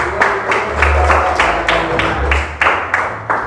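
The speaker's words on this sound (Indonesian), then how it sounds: "Ya, tepuk tangan." Applause from a classroom group follows a teacher's call, with rapid claps in repeated bursts of a few seconds each, fairly close and steady, while no one speaks.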